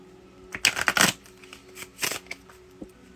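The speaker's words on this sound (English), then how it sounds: "One more shuffle." Tarot cards riffled in two quick bursts, a rapid papery flutter followed by a shorter second shuffle, close and moderately loud with light handling taps between.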